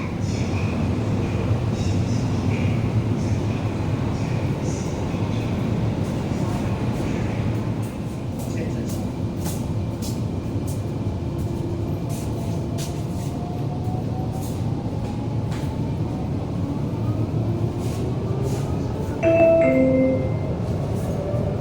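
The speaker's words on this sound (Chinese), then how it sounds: "The train bound for Ersha Island is approaching at platform 6." A Guangzhou Metro Line 12 train pulls into the platform with a steady, loud low rumble throughout, rising and falling whine tones, and a brief chime near the end.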